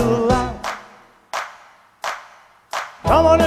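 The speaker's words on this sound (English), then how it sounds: "Come on, everybody, and clap your hands real loud." Loud hand claps, four single evenly spaced claps, close and crisp, bracketed by bursts of singing voice at the start and end.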